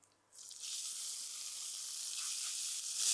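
Cooked rice tipped into a pan of garlic frying in ghee gives a sudden, close, steady bright sizzle that swells slightly and carries on alone without any talk.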